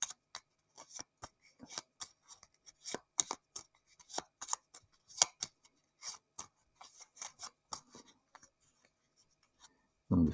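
Cards for the board game Aeon Trespass Odyssey are shuffled and handled at close range, a run of quiet, crisp riffles and taps with short pauses between them.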